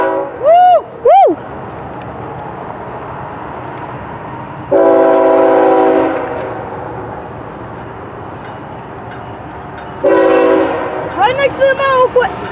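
A BNSF freight train passes at Cajon Pass, sounding two long, loud blasts of its multi-tone horn close by, with steady rolling rumble between them and excited shouting and whoops at the start and end.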